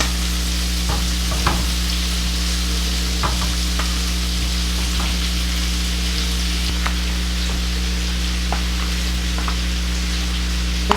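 Overnight-marinated shrimp sizzling in a pan over medium heat, a dense steady crackle and hiss with occasional sharper pops and a low hum underneath, close up and without talk.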